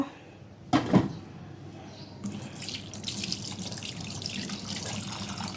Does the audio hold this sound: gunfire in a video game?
no